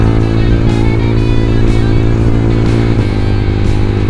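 Yamaha R15 v2 sport motorcycle fitted with a racing exhaust, its engine running steadily with a deep, bassy, continuous drone, loud and close, with a slight shift in tone near the end and no talking.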